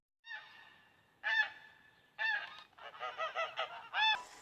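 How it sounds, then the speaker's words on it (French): Several geese honk in a series of loud, nasal calls, with short pauses early on and then a busier run of overlapping honks. "Au-dessus de sa tête, les oies volent et caquettent."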